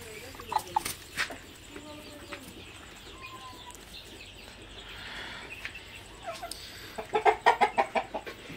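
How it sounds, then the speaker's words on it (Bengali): Large Brahma chickens, a rooster and a hen, cluck close by on a farm in a run of short, rhythmic calls that come in bursts near the end, with a voice talking between them. "তো এই যে আমার ব্রাহ্মা মুরগি, এটা অনেক বড় একটা মুরগি। তো এই যে একটা মোরগ, এই যে একটা মুরগি।"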